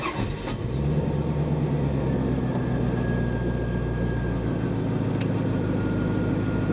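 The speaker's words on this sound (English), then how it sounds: "So now I'm going to go start the engine," A car engine cranks and catches at the start, then settles into a steady, continuous idle hum close by.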